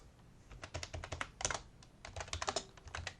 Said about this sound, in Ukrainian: натискаємо пробіл і пишемо MOV